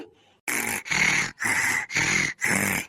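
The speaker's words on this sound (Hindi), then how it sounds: "खर्राटा मारती है" Loud, rhythmic snoring: five harsh, rasping breaths in a row, close by, each about half a second with brief pauses between.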